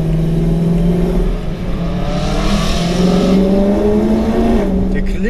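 An Audi RS5 engine roars and revs close by from inside or beside the moving car, its pitch rising and falling under a steady rush of road and wind noise.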